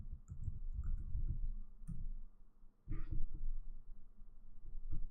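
Computer keyboard keys being typed while entering code, a faint, sparse run of light clicks close by with short pauses between keystrokes.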